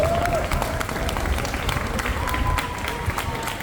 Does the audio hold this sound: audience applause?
yes